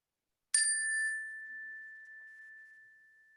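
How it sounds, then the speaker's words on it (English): A single bell is struck once, giving a bright metallic strike followed by a clear, pure tone that slowly fades out over several seconds in an otherwise quiet room. "I'm going to hit this bell and notice when you no longer notice the vibrations of sound."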